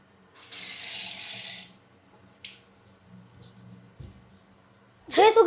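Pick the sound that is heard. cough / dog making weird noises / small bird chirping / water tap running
water tap running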